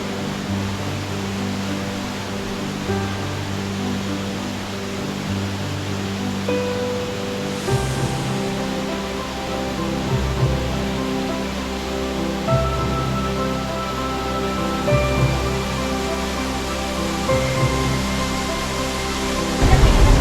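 Tai Tam Mound Waterfall on Hong Kong Island pours in a constant, loud rushing roar of falling water that holds steady for the full stretch, with no voices standing out.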